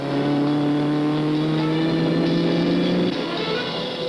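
Ford Mark IV race car driven by Dan Gurney accelerating hard, a loud sustained engine roar with rising harmonic tones that ease off near the end, heard from a distance over track ambience.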